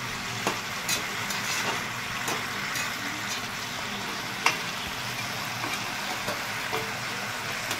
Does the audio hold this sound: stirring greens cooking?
yes